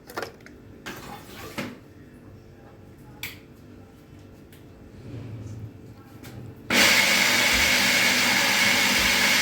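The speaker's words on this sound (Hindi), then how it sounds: "मैंने इसे ब्लेंडर में डाला, और अब मैं इसको अच्छे से ब्लेंड कर लूँगी" After some small clicks and taps, a blender full of tomatoes switches on abruptly and runs loudly with a steady whirring roar until the end.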